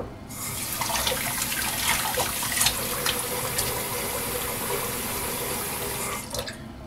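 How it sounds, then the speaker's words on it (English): Tap water runs steadily into a sink as shaving lather is rinsed off a hand, a continuous close splashing rush with small spatters, no voices. "I'll rinse my hand real quick."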